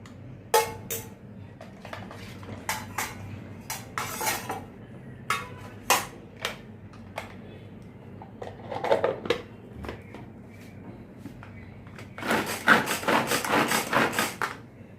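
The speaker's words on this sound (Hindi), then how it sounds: "अभी ये टमाटर भी मैंने चॉप कर लिए हैं।" A hand chopper chopping tomatoes gives a run of sharp plastic clacks at an uneven rhythm, close by, then breaks into a fast, grinding rattle near the end.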